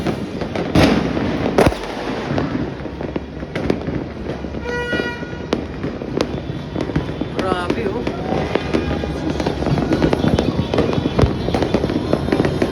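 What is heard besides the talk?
New Year fireworks exploding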